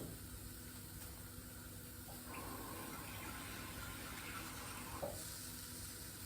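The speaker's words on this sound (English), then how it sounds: "now we're gonna add about 2 cups of water" Steady splashing rush of water poured into a pan of mushroom gravy, continuous and close, with a faint sizzle underneath and no talking.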